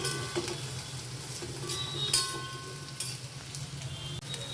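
Lentil fritters (dal bora) fry in hot oil until reddish-brown, a steady close sizzle with occasional stirring scrapes and light clinks, and no talking over it.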